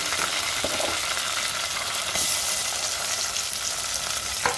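Dal tipped into a hot pan fries with a loud, steady, hissing sizzle that fills the whole stretch, broken by faint stirring scrapes and no talk.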